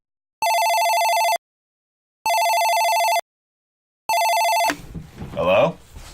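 A telephone rings three times after a call is dialed, each ring an even electronic burst of about a second with short gaps between. A voice answers right after the third ring.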